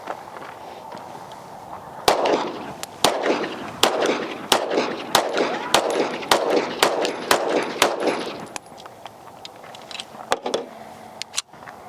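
A rapid string of about a dozen sharp, loud shots from a Daniel Defense H9 pistol at an outdoor range, evenly spaced, followed after a pause by a couple more reports.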